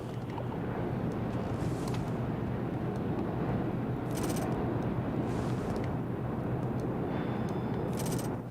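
A low, broad airplane roar passes overhead and holds steady and loud, with a few brief higher hissing bursts on top.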